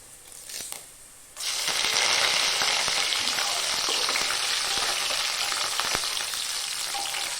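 Soya roast sizzles steadily in a hot pan as it is stirred, a dense crackling fry that starts after a brief quieter moment and continues loud and close to the end, with occasional scrapes.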